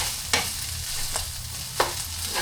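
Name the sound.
garlic frying and being stirred in a pan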